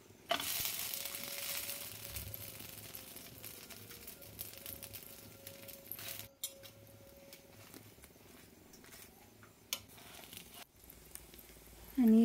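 Sabudana thalipeeth roasts in a pan with a steady, soft sizzle that runs throughout, joined by occasional clinks and scrapes of handling and a louder bump at the very end.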